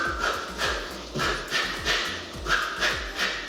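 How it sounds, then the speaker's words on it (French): Heavy, rhythmic breathing during a HIIT cardio workout, with quick loud huffs repeating about twice per second, close and alone. "T'entends la respiration?"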